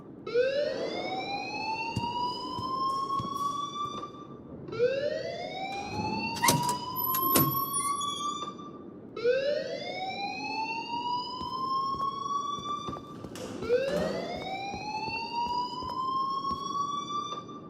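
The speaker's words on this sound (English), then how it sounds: "please turn off that alarm since that's your job." A looping electronic alarm from the video game Life is Strange Remastered wails in repeated rising sweeps, loud and steady across the whole stretch, with a few sharp clicks and beeps layered on top.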